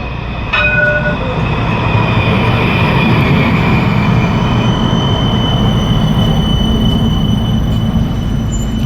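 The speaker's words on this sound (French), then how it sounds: "Ils vont se croiser les deux tramways du Saint-Wagon." Two Alstom trams cross each other at a stop, a loud continuous rumble of rail wheels with high squealing tones and a brief chime near the start, heard close up.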